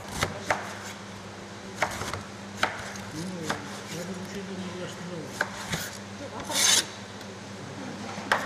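Cabbage is chopped for kimchi in a factory setting, with irregular sharp knife strikes and scraping rasps against a low mechanical hum and one louder burst of noise near the end, all without speech.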